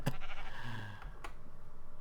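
A Minecraft sheep gives a short nasal bleat, heard up close over faint background game sounds and a few soft clicks.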